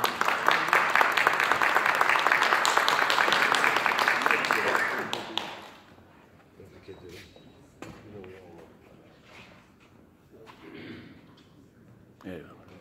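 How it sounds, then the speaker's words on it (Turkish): Dense, steady applause from an audience at a poetry award ceremony, loud for about five seconds before cutting off abruptly, followed by quieter murmuring voices and room sounds. "Bu güzel fotoğrafı alkışlıyoruz sevgili dostlar."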